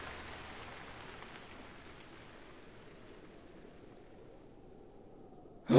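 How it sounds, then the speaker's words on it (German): Rain falling in a video game, a soft, even hiss of drops heard alone and fairly faint, easing slightly over several seconds. "Oh, der Regen hat aufgehört."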